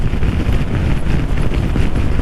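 Strong wind buffeting the microphone while riding a 2018 Honda PCX motorcycle, a dense, steady roaring rush with no pauses, loud and close.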